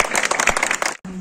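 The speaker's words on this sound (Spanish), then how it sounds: "un aplauso para Marce" Dense audience applause and clapping at a legends tour event at a hacienda in Lagos de Moreno, loud and continuous for about a second before cutting off abruptly, followed by a brief tonal hum.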